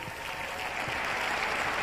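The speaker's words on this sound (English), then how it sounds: "they're showing their appreciation as the dancers leave the floor for the last time" An audience at the 2001 European Standard ballroom dance championship in Finland applauds steadily as the dancers leave the floor, a dense, even wash of clapping that holds for the whole moment, with a faint voice beneath it.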